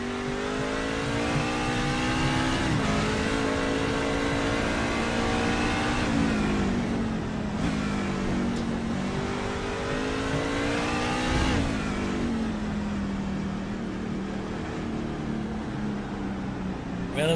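Race trucks of the Stars & Stripes Truck Series lapping Mid-Ohio, engines droning and shifting pitch continuously as they race past in a dense, steady roar, with faint trackside commentary underneath.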